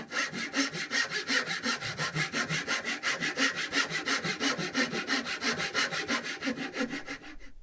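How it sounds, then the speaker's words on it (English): Rhythmic back-and-forth rasping of a file and sandpaper shaping a wooden chair tenon to fit its mortise, about twenty even strokes at a steady pace, close and clear with no talk. "After about 20 minutes of filing and sanding,"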